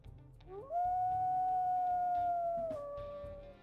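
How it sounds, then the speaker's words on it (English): A single long, high-pitched wolf howl from the video game WolfQuest rises quickly, holds a steady tone for about two seconds, then drops slightly and fades, heard alone over a soft low background hum. "Listen to his howls here too."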